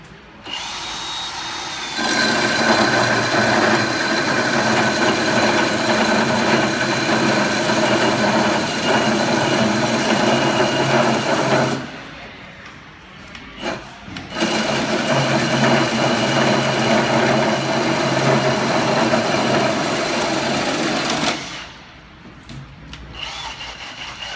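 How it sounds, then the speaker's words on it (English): A Milwaukee Super Hawg drill bores a 6-inch hole through a 2x10 wood board, a loud sustained motor whine running about ten seconds, a short pause, then another long steady run before cutting off. "I'm going to drill a 6-inch hole through this piece of 2x10."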